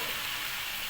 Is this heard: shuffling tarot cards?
no